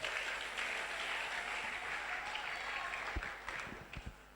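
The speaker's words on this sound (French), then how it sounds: "Sous vos acclamations" Audience applause at a gathering, dense steady clapping that carries evenly through the clip before thinning toward the end, with a few louder low thumps near the close.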